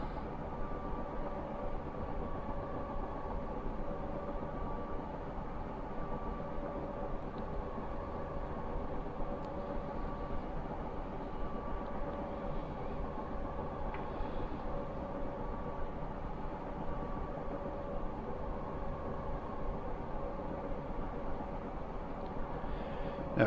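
Class 402 2-HAL electric multiple unit running on a simulated line, a steady, continuous rumble and hum of motors and wheels on track that holds level throughout with no breaks.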